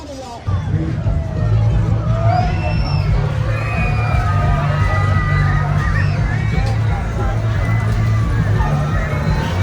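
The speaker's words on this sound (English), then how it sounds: "The sounds of laughter, rides, and music fill the air." Busy fairground midway at a state fair, a dense crowd babble with children shouting and cheering, low rumbling ride machinery throughout, and faint music mixed in, steady and enveloping from all around.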